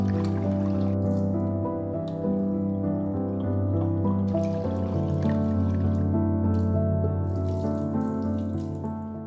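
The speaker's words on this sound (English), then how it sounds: "Rinse and drain the rice 2 to 3 times to get rid of the excess starch." Water runs from a tap into a small saucepan as sushi rice is rinsed and drained, a steady close stream with splashing and trickling that shifts in texture partway through, loud and continuous with no talking.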